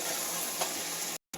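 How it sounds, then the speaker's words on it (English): Chicken for a spicy curry fries over high heat in a pan, giving a close, steady sizzle with a brief stirring scrape before it cuts off abruptly. "cook the chicken for some time until it"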